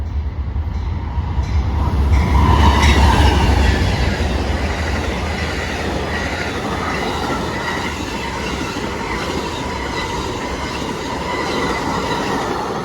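The Amtrak 48 Lakeshore Limited passenger train rolls past at Bayview Road in Blasdell, NY, with a loud, close rumble and faint wheel squeal that settle into a steady roar of cars going by.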